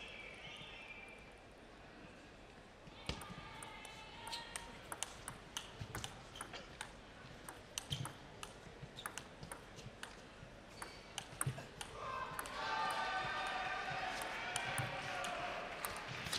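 Table tennis rally in a Paralympic men's singles Class 9 match between France and Ukraine at London 2012, with quick sharp ball clicks off table and paddles in a fast rhythm, and a crowd swelling into cheers at the end.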